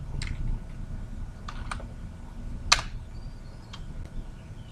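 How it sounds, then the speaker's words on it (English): Sparse keystrokes on a computer keyboard while entering code, a few scattered clicks with one sharper tap, fairly close over a low background hum. "we're going to type SQL connection"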